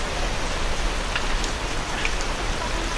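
Steady rain falls outdoors, a dense, even hiss of drops pattering on surfaces with no voices, continuous and moderately loud from start to finish.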